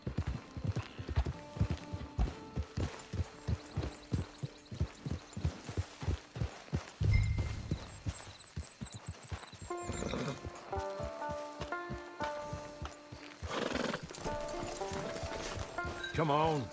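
Horse hooves clip-clop in a steady, evenly spaced rhythm during the first half in Red Dead Online, with a voice speaking over them before music and game ambience take over.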